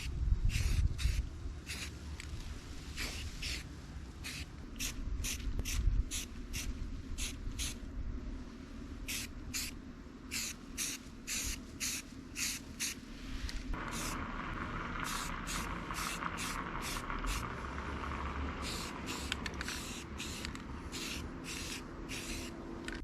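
Spray primer applied to custom headlight and taillight parts, heard as a steady hiss broken by many short, rhythmic aerosol bursts, close and moderately loud, with no talk.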